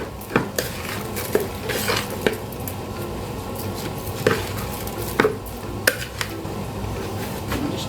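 Tomato puree is mixed into a stuffed pepper filling with a utensil, giving scattered clinks and knocks against the bowl over a soft, close stirring squish, with no talking.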